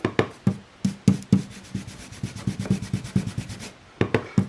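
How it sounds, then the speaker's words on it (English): A blending brush rubs ink over a decorative mask for embossing in a series of quick, close scrubbing strokes, brisk and rhythmic with short pauses between bursts. "I'm going to use my blending brush"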